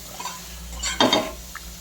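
Stuffed okra stirred in a pan: a soft scrape, then one brief clatter of a spoon against the metal pan over a faint background hum.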